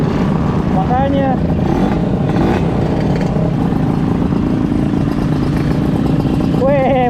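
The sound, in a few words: motorcycle engine revving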